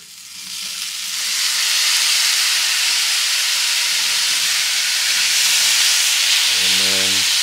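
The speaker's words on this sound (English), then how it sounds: "So now you're going to put your beans in and 1/2 cup of Dr. Pepper." Beans and half a cup of Dr Pepper go into a hot pot of sautéed onions in a cabin kitchen, giving a loud, steady sizzle and hiss that swells after a quiet start and stays constant.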